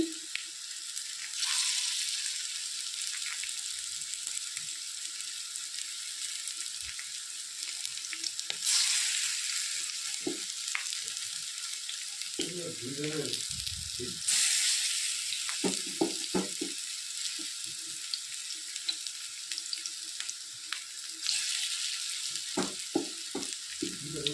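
Large cabbage and coriander fritters fry in oil on a tawa, a loud, steady hiss of sizzling with occasional soft clinks and stirring noises, no voices.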